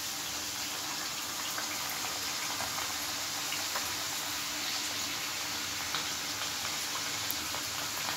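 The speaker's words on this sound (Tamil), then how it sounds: "இதை அப்படியே பொறிட்டோம்" Chicken kachori deep-frying in hot oil, a steady dense sizzle and bubbling that runs unbroken and fairly loud throughout, with no voices.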